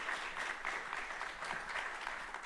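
An audience at the Injective Summit 2025 applauds a panel of speakers at a live event venue. The clapping is steady and fairly distant, a soft, even patter that lasts a couple of seconds with no one talking.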